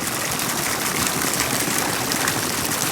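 Water circulating through a submersible pump, a dense steady gush and rush of flowing water, close and loud, continuous with no pauses or speech.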